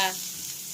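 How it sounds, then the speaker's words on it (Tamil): Chopped onions fry in hot oil in a kadai while cheese noodles are being made. The sizzle is a steady, close hiss with a brief louder burst at the very start, and there is no talking. "ஒரு கடாயில் எண்ணெய் ஊற்றி எண்ணெய் காஞ்சதுக்கு பிறகு ஆனியனை போட்டு நல்லா ஃப்ரை பண்ணுங்க"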